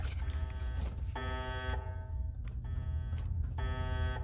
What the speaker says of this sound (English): Now I have to listen to the loud beeping noise.